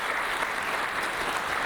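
Steady applause from an audience at a school administrators' gathering honoring a retiring staff member, a continuous dense wash of clapping with no break over the short span.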